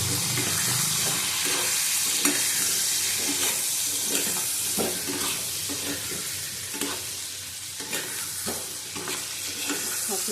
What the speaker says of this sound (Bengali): নুন দেবো হলুদ দিলাম নুন দিলাম ভালো করে লাল করে ভেজে নেব